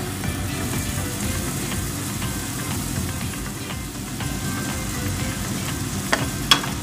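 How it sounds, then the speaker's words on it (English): Butter melting in a pan for a macaroni and cheese sauce, a continuous soft sizzle and crackle with a low background hum and a couple of sharp clicks near the end. "I will wait until the butter is melted."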